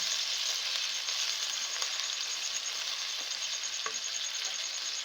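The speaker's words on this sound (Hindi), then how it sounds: "चिकन डालने के बाद हम इसे इस घी में 10 मिनट तक फ्राई करेंगे इस तरह से।" Marinated chicken frying in ghee over medium heat, a steady bright sizzle with faint scattered pops and crackles, no voices.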